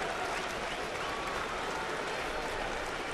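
Baseball stadium crowd cheering and clapping as Burnett of the Yankees goes for a strikeout against the 2009 Angels, a dense, steady roar of applause filling the whole stretch without a break.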